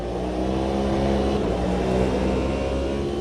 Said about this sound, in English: And this car really roars too. It's got a very distinct engine note.